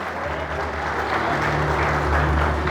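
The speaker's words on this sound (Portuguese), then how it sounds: "Aplauda, aplauda, aplauda Jesus de Nazaré." A church congregation applauds during a sermon. Continuous clapping and crowd noise fill the space, loud and even from start to finish, with some voices underneath.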